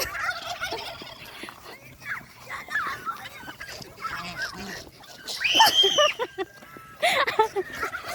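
Turkeys gobble in bursts, several rattling calls close by, with people chattering in the background between them.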